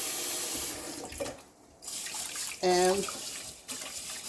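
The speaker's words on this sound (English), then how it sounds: "All you need is cold water." Cold tap water runs steadily into a sink to rinse rice, a broad hissing rush that briefly dips, with a short spoken word over it.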